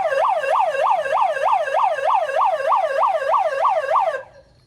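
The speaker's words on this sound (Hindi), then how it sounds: "हमारे वाले शिप का ये सायरन है" A cargo boat's departure siren on the Amazon River wails loudly in fast, repeating rise-and-fall cycles, steady and unbroken, then cuts off abruptly near the end.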